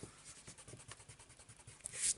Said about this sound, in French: j'enlève mes marques du crayon papier